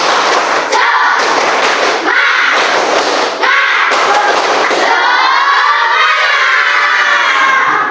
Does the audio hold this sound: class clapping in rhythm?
yes